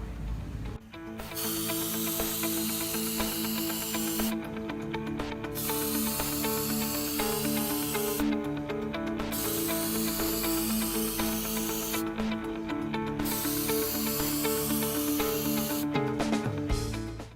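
An aerosol can sprays Action Clear anti-corrosion coating onto an HVAC board in four long, continuous hissing bursts, close and loud, each divided by a short silent gap.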